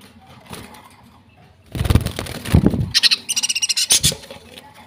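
Pet birds chirp in a home bird setup where eggs have been laid. There are a few scattered calls, then a burst of rapid, evenly repeated chirps close by.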